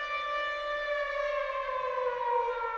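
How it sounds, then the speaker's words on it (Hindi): A long wailing siren holds a steady tone that slowly sinks in pitch, several siren layers blended together into one rich sound. "मैंने लंबा पूरा लंबा सायरन रखा है"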